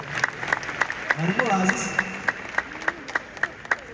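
A church congregation claps in a steady, regular rhythm of sharp beats, moderately close, while someone speaks over the clapping.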